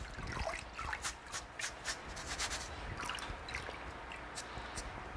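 Starchy white washing water is poured off sushi rice in a kitchen, a loose trickle and splash with scattered drips and wet rubbing of grains, steady and close without talk.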